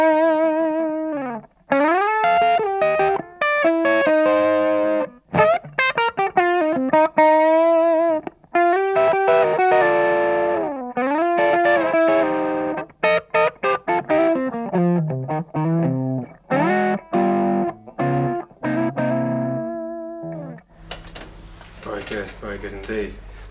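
A Truetone overdrive and distortion pedal colors an electric guitar through a series of phrases and bends, with sustained, gritty, harmonically rich notes played up close and alone, ending on a burst of noisy, crunchy strumming.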